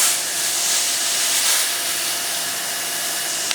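A pressure washer sprays steadily through a 2.5 nozzle, a loud, continuous broadband hiss that holds almost unchanged throughout and stays close, with no talking.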